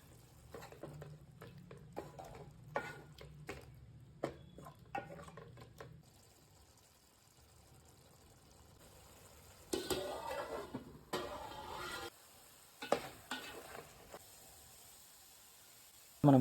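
Prawn masala simmers in a pan on a low flame, giving a soft, faint sizzle with intermittent spoon scrapes and clinks, quiet and close, with brief louder stirring bursts.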